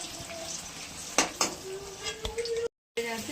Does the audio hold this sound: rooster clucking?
no